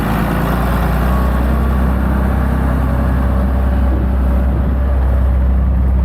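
Inside the cab of a Massey Ferguson 6280 tractor while spreading, the engine drones steadily with a strong low rumble, loud and continuous throughout, with no speech.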